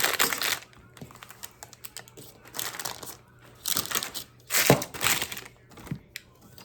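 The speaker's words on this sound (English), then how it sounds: "Okay, we're going to cut our nugget." A knife cuts through homemade nougat candy made with cereal, giving a run of close, crisp crunching and cracking bursts separated by short quiet gaps, with no talking.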